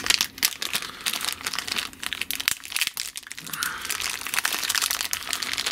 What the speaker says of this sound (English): how much tape do you need to put on this little plastic bag